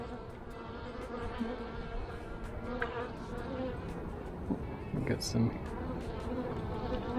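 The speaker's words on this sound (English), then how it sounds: "bees that aren't too happy to see me." Honeybees hum and drone steadily all around during a hive inspection, a close buzzing swarm, with someone speaking briefly over the buzz.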